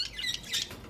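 Pet budgies (parakeets) chirp in quick, high bright bursts indoors, several short calls scattered across a second, fairly close with faint background noise.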